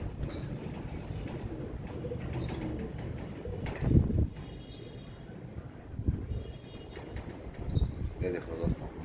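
Royal Teddy pigeons cooing in a loft, soft low coos and bird calls close by, with someone talking over them throughout.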